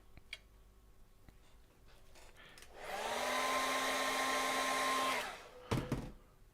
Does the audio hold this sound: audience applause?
no